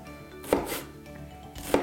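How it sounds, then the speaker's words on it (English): Knife chopping onions on a board while making chicken biryani, two loud, sharp chops about a second apart over a quiet kitchen background. "we all know how I love to cut onions like a crazy person"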